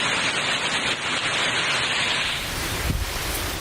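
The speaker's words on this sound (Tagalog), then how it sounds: "Sa labas ng isang hotel nakuna ng video ang malakas na ulan at hangin." Loud, continuous roar of typhoon-driven heavy rain and gusting wind outside a hotel in Albay, Philippines, buffeting the microphone, with no break throughout.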